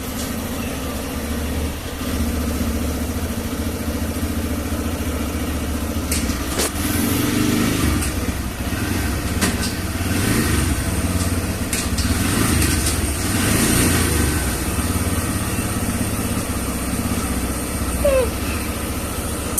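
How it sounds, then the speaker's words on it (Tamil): A motorcycle engine starts after a clutch adjustment and settles into a steady, loud idle that runs close and continuous throughout. "நம்ம வண்டி ஆன் பண்ணி செக் பண்ணி பார்த்துடலாம்."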